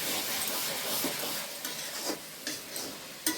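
A curry of peas and pumpkin being stirred and cooked in a pan, with a steady sizzling hiss and a few sharper scrapes and knocks of the spoon toward the end, close and moderately loud with no talking.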